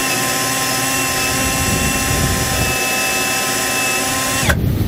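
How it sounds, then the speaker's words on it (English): A power drill with a step drill bit bores a hole in a Jayco Pinnacle fifth-wheel trailer, giving a loud steady high whine with grinding texture that stops abruptly near the end. "We're going to drill a hole here using a step drill bit"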